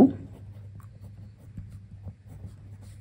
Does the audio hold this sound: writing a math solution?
yes